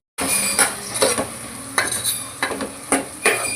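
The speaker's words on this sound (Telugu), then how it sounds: "టమాటా, కొంచెం ధనియా పొడి వేసి కలుపుకోవాలి" Tomato curry with coriander powder being stirred in a pan, a metal spoon scraping and clinking against the pan in repeated strokes over a low background sizzle.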